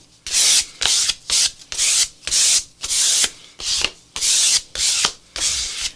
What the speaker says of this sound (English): I'm just going to scrape it around on this page